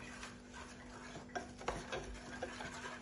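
A spoon stirs a cold mixture of sugar, starch and cocoa in a pot for a custard dessert, making soft scraping and clinking sounds against a steady background hum.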